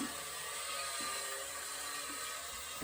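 A small motor in a vintage battery-operated plastic and tin toy gantry crane runs with a steady, high-pitched whir, close and continuous, with faint bumps along the way.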